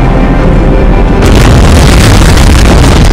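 An antimatter charge detonates in the video game Halo on PC, a single massive, overwhelming boom that fills the whole moment with a sustained roar of blast noise.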